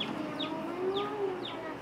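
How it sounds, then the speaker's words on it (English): Chickens make soft, repeated short chirping calls at a fairly steady pace, quiet and close, over a low background hum. "6 chickens we're starting off with on the Sunrise Farms"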